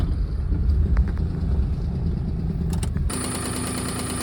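A Maruti 800 car idles and creeps along at full steering lock, its small engine giving a steady close rumble, with some faint clicks before the sound shifts abruptly.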